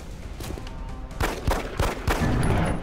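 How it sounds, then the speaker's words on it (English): Pistol gunshots in XCOM: Enemy Unknown, four or five sharp close shots spaced about a quarter second apart over a low game ambience. "shoot the freaking pistol at him"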